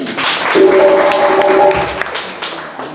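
Audience applause at a gathering in Burkina Faso, a short loud burst of clapping from a crowd that fades out.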